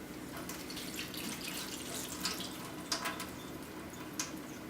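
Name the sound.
rinsing soaked almonds under the sink tap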